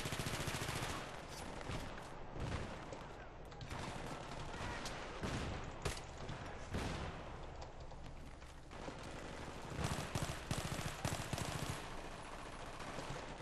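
Full-auto FAMAS gunfire in Battlefield 3, loud rapid bursts rattling almost continuously for the whole stretch amid battlefield noise, with brief lulls between volleys.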